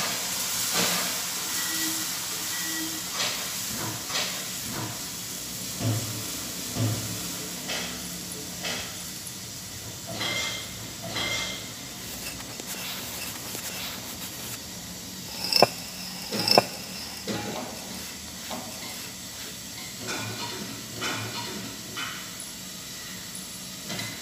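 Cucumber dhirde batter sizzles on a hot oiled pan with a faint, continuous hiss, broken by a few soft clinks and scrapes.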